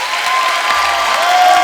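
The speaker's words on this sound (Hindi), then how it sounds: "जोरदार तालियों से स्वागत कीजिए" A studio audience on a Hindi comedy talk show bursts into loud, sustained applause to welcome actor and politician Sunny Deol, a thick, continuous roar of clapping with faint crowd cheering.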